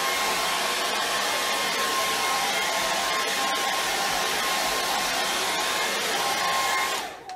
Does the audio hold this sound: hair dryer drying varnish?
yes